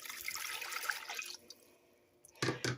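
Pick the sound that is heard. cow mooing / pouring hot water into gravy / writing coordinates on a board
pouring hot water into gravy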